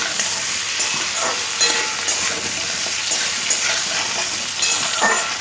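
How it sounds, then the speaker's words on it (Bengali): Potato and green banana pieces fry in oil with a constant loud sizzle, broken by light stirring scrapes every second or so, with no talking. "এবার হালকা করে সমস্ত সবজি ভালো করে ভেজে নিতে হবে"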